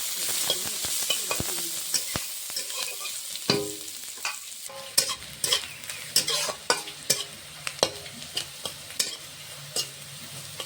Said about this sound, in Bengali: পেঁয়াজটা লঙ্কাটা ভালো করে ভেজে নিয়েছি তেলে